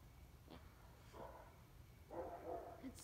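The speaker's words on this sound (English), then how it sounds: "Dogs are going crazy." Distant dogs barking in a few scattered bursts, faint against a quiet outdoor background in Moorpark during a rocket launch, with a voice briefly murmuring.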